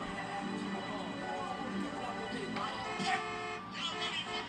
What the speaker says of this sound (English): Shut up, you're honking, boy!